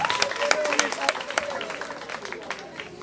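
Applause from a school radio-show audience welcoming a philosophy teacher at Lycée Djibo Soukalo, sharp scattered claps under a steady patter, with a voice talking over part of it.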